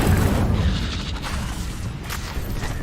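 A fire spell in Hogwarts Legacy erupts in a loud, broad whooshing burst that starts strong and slowly rolls off into a sustained fiery rumble, with no talking.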